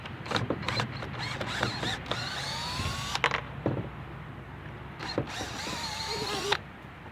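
Screws being backed out of the tuner bar on a soap cutter machine under repair, two per side at the ends, heard as close mechanical whirring and ratcheting bursts with short pauses between turns.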